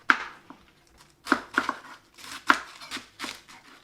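Knife finely slicing washed spring onion on a cutting board, a series of crisp, irregular chops up close, some in quick pairs, with no talking.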